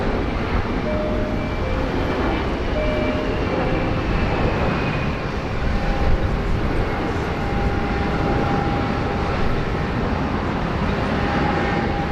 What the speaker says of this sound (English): We will flick over to a Jetstar 320 about to arrive here on runway 16 right.